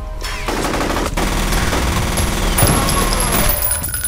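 Rapid assault rifle fire from the shooter game F.E.A.R., loud sustained bursts with short gaps, repeated across the clip alongside other gunfire.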